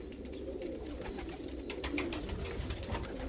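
Yellow English pigeons coo softly in a loft, low murmuring calls over a steady background hum, fairly faint and continuous, with a few scattered clicks.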